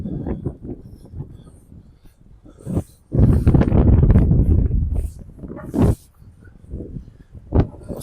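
Wind buffets the microphone outdoors in the narrow streets of St Tropez, bursting in loud, close, uneven gusts, with a long heavy rumble in the middle and shorter thumps around it.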